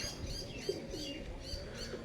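Pigeons coo softly nearby, with a few low calls and faint chirps over quiet outdoor background noise, and a brief flutter of wings.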